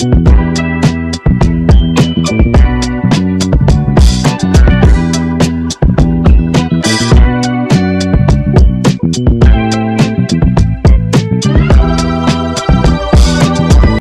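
The finished remake of a beat plays loud and full for the whole stretch, with dense chords and crisp drum hits driving a steady rhythm and no talking over it.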